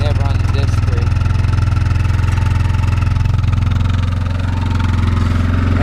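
A 2004 Yamaha Kodiak 450 ATV idles after a cold start with a loud, steady, even putter recorded close up, holding a constant rhythm throughout.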